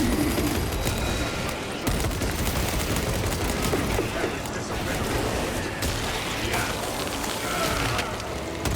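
Rapid plasma gun fire in Warhammer 40,000 Space Marine 2, a dense crackling barrage of shots over continuous game noise, loud and sustained with brief dropouts.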